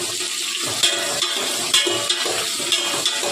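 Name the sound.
onions and green chillies frying in a pan for mutton curry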